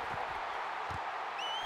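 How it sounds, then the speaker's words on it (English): A stadium crowd in a college football video game, UCLA versus LSU, roars as a steady, broad wash of cheering and applause that fills the whole moment at an even, loud level. "And just listen to this crowd, Brad."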